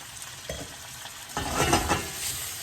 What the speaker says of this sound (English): The onions will get a little crispiness and the bacon.